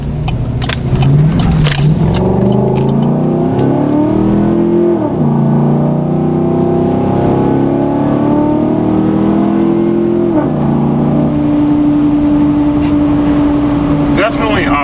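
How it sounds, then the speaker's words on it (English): A Chevrolet Silverado pickup with a newly installed exhaust pulls out, its engine rumbling loud and close as it rises and falls in pitch through gear changes, with a steady drone near the end and someone talking over it. "Alright, this is with the new exhaust,"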